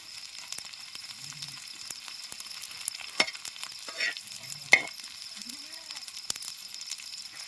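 Bombil (Bombay duck fish) frying in a pan gives a quiet steady sizzle, with occasional scrapes and clinks as the pieces are stirred and turned. A voice murmurs faintly in the background.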